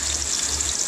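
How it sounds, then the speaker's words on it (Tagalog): Ginger, onion and garlic sauté in a hot pan with a bright continuous sizzle, close and steady for a short moment. "tayo ay magigisa na"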